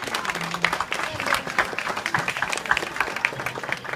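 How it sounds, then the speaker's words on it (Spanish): An audience at a neighbourhood coronation gives a round of applause for Heidi, with lively, uneven clapping and a few individual hand claps standing out over a murmuring crowd. "Así que fuerte el aplauso para Heidi."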